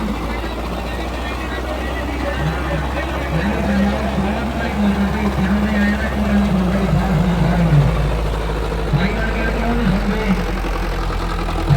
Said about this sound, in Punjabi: ਓਰੀਜਨਲ ਚੱਲ ਰਿਹਾ ਟਰੈਕਟਰ ਇਹਨੂੰ ਕਹਿੰਦੇ ਆ